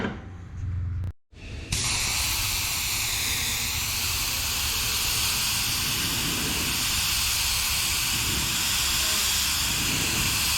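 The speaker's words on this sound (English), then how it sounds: "Just putting down the base white here, using the single action airbrush to get the volume." A single-action airbrush sprays base white paint onto a skateboard deck for a retro neon design: a short quiet start, then a loud, steady, close hiss of air and paint that runs unbroken to the end.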